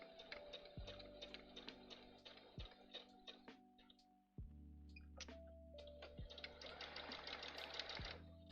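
A sewing machine stitching panniers, running in close, rapid ticking bursts with short pauses and a couple of dull thumps between runs, then picking up again into a steadier stretch.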